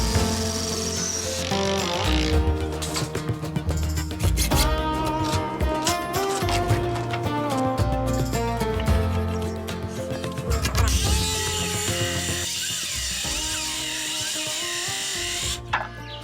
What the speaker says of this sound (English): So we're going to bolt this down now, in between the roof spars